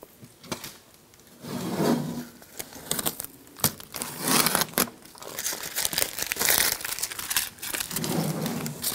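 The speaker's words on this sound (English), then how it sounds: "Take the tape off." Masking tape peeled and pulled off the door panel of a 1998-2010 Volkswagen Beetle, heard as a series of crinkling, ripping and rubbing bursts of varying loudness, close up, with no talking.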